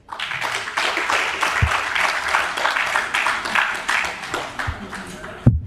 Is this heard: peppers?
no